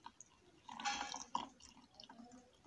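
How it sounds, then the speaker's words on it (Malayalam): Water is poured over flowers in a container to freeze into an ice craft, making a short splashing, trickling pour with a few drips afterward and no voices. "വെള്ളം ഒഴിക്കണം."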